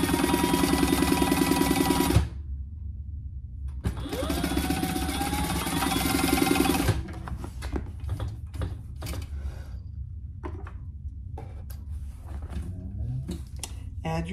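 Sewing machine basting fabric for a laptop or iPad case, loud close runs of rapid stitching broken by pauses, followed by softer handling clicks and rustles.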